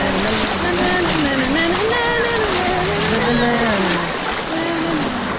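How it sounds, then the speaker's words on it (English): A wave machine churns water in the wave pool at Disney's Blizzard Beach water park, a steady loud wash of surging water and wind with music and voices drifting over it throughout. "Here we are at the Blizzard Beach water park wave machine"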